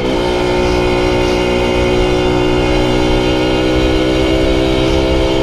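An old Honda Nova Dash SP1 motorcycle engine runs steadily and loud up close, a smooth continuous drone with a faint whine layered over it and no voices.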